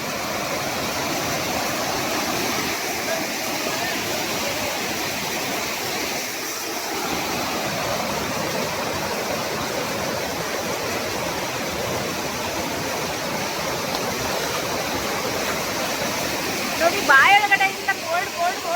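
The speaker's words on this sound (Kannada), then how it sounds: "ಫೈನಲಿ ಅಂತೂ ಇಂತೂ ನಾನು ಜೆರಿ ಫಾಲ್ಸ್ ಹತ್ರ ಬಂದೆ" Jhari Falls near Chikmagalur roars with a steady, dense rush of falling water, loud and continuous throughout, with a brief louder splash or disturbance near the end.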